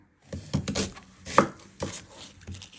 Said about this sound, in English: Then you're going to chop it down the middle.